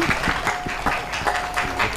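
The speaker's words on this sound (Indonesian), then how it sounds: "Tepuk tangan dulu dong." An audience claps steadily in a dense, continuous burst of applause, fairly close and loud for the full two seconds.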